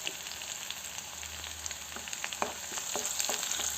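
Dried red chillies and curry leaves fry in hot oil, a close steady crackling sizzle with small popping bursts that grow slightly busier in the second half.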